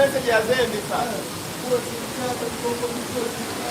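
Water sprays in a steady broad hiss from a small shower in the water park aboard the MSC Seashore cruise ship, with a voice talking over it.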